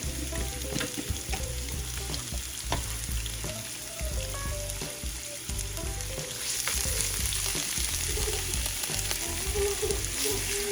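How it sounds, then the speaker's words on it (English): Vegetables and garlic sautéing for chili, a loud continuous close-up sizzle and hiss with occasional stirring knocks, growing a little brighter partway through. "I'm going to go ahead and saute these vegetables until they're nice and soft"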